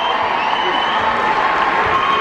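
A large crowd at a Marshall versus Louisiana Tech football game, a steady broad roar of cheering and applause filling the stadium, continuous and fairly loud throughout.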